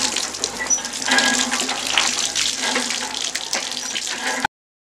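Hot water pouring steadily from a pipe, a loud, continuous splashing rush that runs unbroken and then cuts off abruptly near the end.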